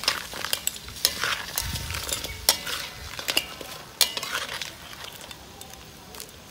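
Crab already fried is tossed in black pepper sauce in a hot pan, with a steady sizzle under repeated sharp clinks and scrapes of a spatula stirring close by.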